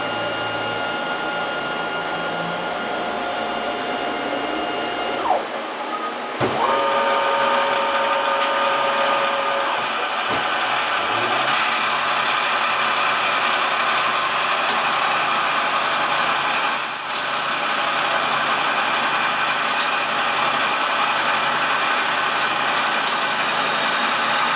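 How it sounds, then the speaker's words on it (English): A fly cutter machines metal stock on a PM727M milling machine, starting after a few seconds as a loud, steady whine with tonal hum that runs continuously to the end. "We're going to start out with a fly cutter."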